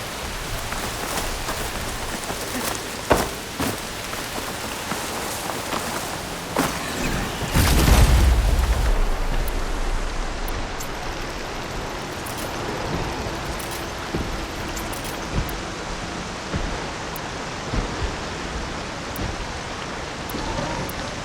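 Heavy rain pours steadily in Horizon Forbidden West, a dense, continuous hiss throughout. A deep, low boom rolls through near the middle, and sparse faint clicks and taps sit on top of the downpour.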